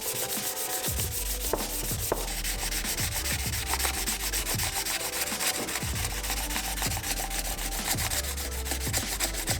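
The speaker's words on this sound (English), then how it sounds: "So we're sanding it with a block." A rotary engine housing being sanded by hand on a block with 1000-grit paper: steady back-and-forth rasping strokes in a regular rhythm, close and clear, with no talk.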